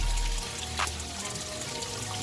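River water flowing around a 4x4 Tata Safari Storme during an off-road river drive, a steady washing rush with a brief splash partway through, and no voices.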